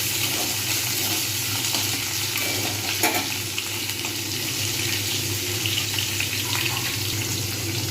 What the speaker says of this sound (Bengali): আলুগুলো ছেড়ে দেবো এগুলো ভাজবো